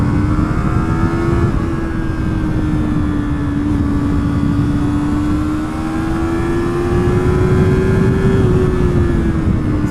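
A 2020 Yamaha MT-03 motorcycle engine on the road during a downshift to second gear: a steady, close drone with a pitch that sags slightly, then climbs gently as the revs build, with wind rush throughout.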